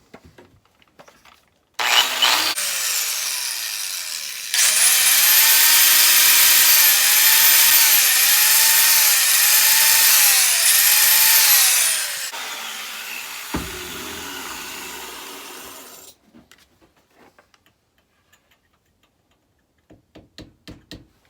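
A 1959 Gravely tractor starter chain being ground with a power tool in a workshop: a loud, close, steady grinding whine with a pulsing, wavering pitch, running for several seconds before stopping, with scattered clanks after.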